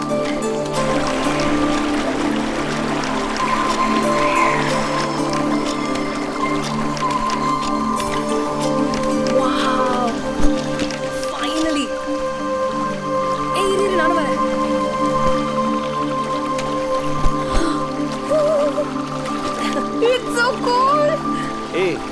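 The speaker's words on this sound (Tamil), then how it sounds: "தண்ணி சத்தம் கேக்குது." Water flows steadily through a forest in a horror film scene, a continuous wash of splashing and trickling heard throughout while people talk over it.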